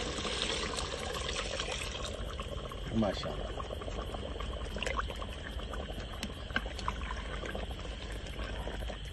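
Liquid drawn out of the meat is poured back into a pot of cooking beef, a steady watery pouring and simmering sound, with a brief spoken word over it.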